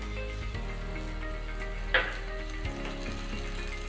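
Blended tomato paste goes into a frying capsicum gravy, a Tamil side dish for chapathi. A steady sizzle continues under a brief utensil clink and some light stirring, with no voices.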